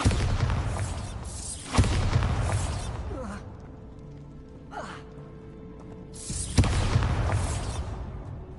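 A Bombarda blasting spell goes off in Hogwarts Legacy as a loud booming burst, followed by a quieter stretch and then a second heavy blast, with game ambience beneath.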